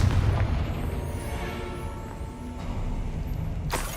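A Confringo blasting spell in Hogwarts Legacy goes off as a loud, deep boom at the start, followed by a rumbling roar that slowly fades over several seconds.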